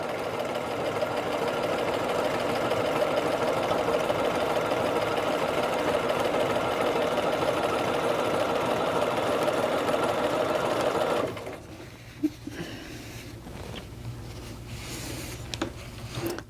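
Close, steady whirring of a sewing machine stitching a raglan sleeve seam runs continuously for about eleven seconds, then stops, leaving light handling noises and faint clicks.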